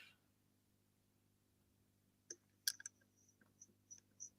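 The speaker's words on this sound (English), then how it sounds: "He is now typing again." Quiet keyboard typing: a few scattered key clicks, faint and close, in a near-silent room.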